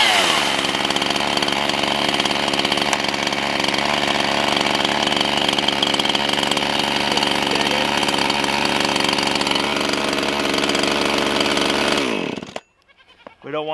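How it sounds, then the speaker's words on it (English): A chainsaw engine runs steadily at idle, a loud buzzing drone that holds for many seconds before abruptly winding down and stopping near the end. "You got to make your adjustments while the chainsaw's running"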